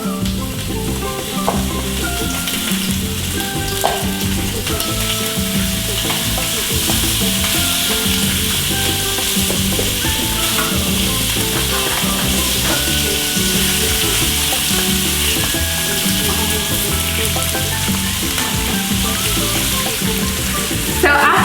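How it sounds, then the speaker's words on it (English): Sliced sucuk sausage fries in a small amount of olive oil in a pan, a loud and steady close sizzle that continues for the whole stretch with no break. "we are going to place the sucuk in our pan"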